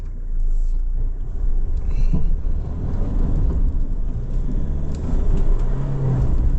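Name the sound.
2025 Mitsubishi Triton GLX engine starting uphill in low range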